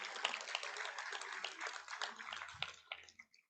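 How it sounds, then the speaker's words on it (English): An audience applauds at a school STEM event, steady broadband clapping that thins out and trails off into scattered claps near the end. "Let's give him another round of applause."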